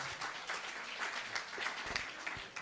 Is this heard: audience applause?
yes